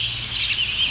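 Short, high chirps from birds in a park, brief and faint over a low background hum.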